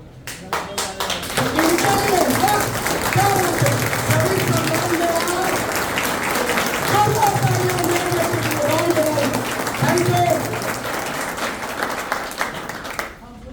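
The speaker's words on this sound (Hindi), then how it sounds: "इनके सम्मान में तालियां होनी चाहिए, जोरदार तालियां" Loud, sustained audience applause at a youth conference with dense clapping and crowd murmur and voices mixed in, building quickly and fading out near the end.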